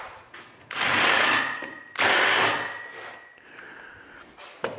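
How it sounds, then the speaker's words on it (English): A drill fitted with a 1/2 inch bit lightly deburrs drilled holes while a zero turn dethatcher attachment is assembled, giving two short, whirring bursts close by, separated by pauses and followed by a small clank. "I just grabbed a 1/2 inch bit and I'm just gonna lightly hit them"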